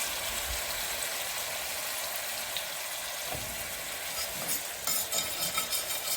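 Food for Salisbury steak sautés in a pan while a utensil scrapes up the browned fond, a steady close sizzle with scraping strokes that grow busier toward the end, with no talking.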